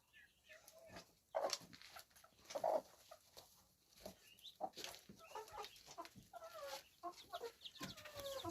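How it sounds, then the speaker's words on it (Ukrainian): A hen clucks in short bursts nearby, with soft farmyard rustling and a few other bird sounds, including ducks, in a quiet setting. "теж починає кохтати ось ця маленька."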